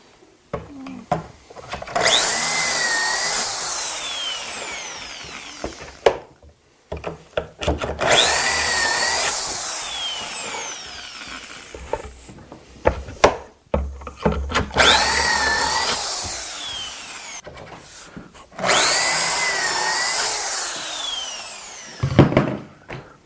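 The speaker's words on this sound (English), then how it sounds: "So we'll drill the pocket holes on a piece," Four long, loud bursts of a drill boring pocket holes into a wood piece with a pocket hole jig. Each burst rises and falls under a whining cut, separated by brief pauses, close up, with no speech.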